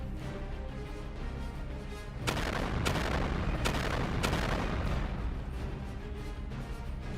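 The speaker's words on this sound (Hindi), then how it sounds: "वैसे ही उसमें जोरदार धमाका होता है" A missile strike explodes on a ship at sea, heard as a sudden loud blast that rumbles on with several sharp cracking bursts over a dense, roaring background.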